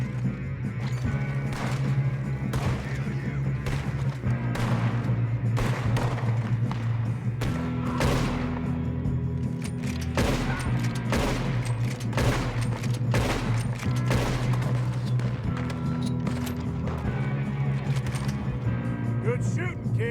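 Shootout during a train robbery in the video game Red Dead Redemption 2, with dense repeated gunfire over a continuous rumbling train and engine drone, shots clustered in rapid volleys, some voices mixed in.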